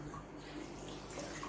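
Water poured into a pressure cooker pot of beef while cooking yakhni pulao, a steady continuous pouring and splashing lasting throughout, close and moderately loud with no talking.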